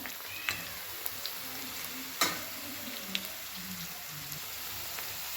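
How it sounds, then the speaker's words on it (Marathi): Onion and cinnamon roasting in hot oil for a village-style chicken curry, a faint continuous sizzle with occasional crackles and one sharper clatter of a spoon midway, with no talking. "आता यातच टाकूया बघा आपण दालचिंग चांगलं तेलात भाजूया"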